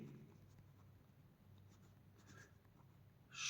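Faint scratchy strokes of writing on a board during a maths class, quiet and intermittent, ending in a brief louder rustle.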